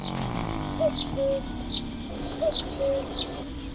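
Repeated cuckoo calls sound in a video game scene, several evenly spaced two-note phrases with bright high chirps, moderately loud over a steady low ambient hum.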